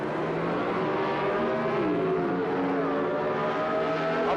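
A 1978 NHRA drag race at the Gatornationals with a Chevrolet Monza, two cars launching side by side, a loud sustained engine roar with rising pitch as they accelerate away, carried on a television broadcast.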